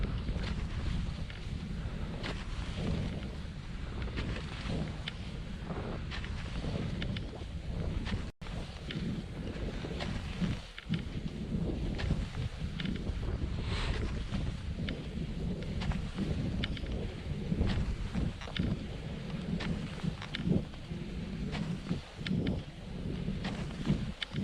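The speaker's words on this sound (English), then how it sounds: "Now there is actually a little bit of wind too." Wind blowing steadily outdoors on a cross country ski trail, a continuous broad roar and buffeting rush against the microphone with occasional gusts, close and fairly loud throughout with no voices.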